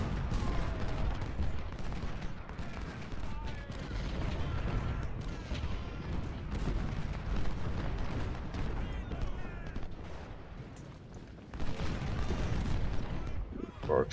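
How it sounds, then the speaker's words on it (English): In the Ultimate General: Civil War battle of Corinth, cannon artillery fire booms and rumbles nearly continuously as dense overlapping volleys, with musket crackle underneath and a heavier blast near the end. "All the cannon target Oglesby's men here."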